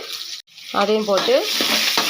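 Onions and curry leaves dropped into hot oil, bursting into a close, continuous crackling sizzle with brief squealing tones as they hit the pan.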